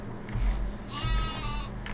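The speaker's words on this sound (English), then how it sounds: "That sheep thinks he's Rin Tin Tin" A sheep in the Farming Simulator 15 farming game bleats in a couple of drawn-out, wavering cries at close range, with faint game ambience underneath.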